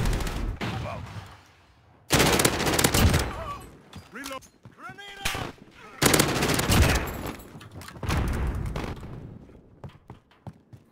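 Loud bursts of automatic gunfire in Call of Duty: Modern Warfare, several separate volleys broken by short pauses, with someone talking between and over the shots.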